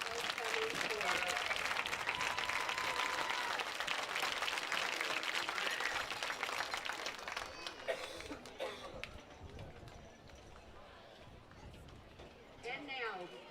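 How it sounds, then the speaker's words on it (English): Crowd applause at a high school football homecoming game greets the homecoming chorus, a dense wash of clapping and cheering that fades after about eight seconds, then swells briefly again near the end. "please give a round of applause for this year's homecoming chorus"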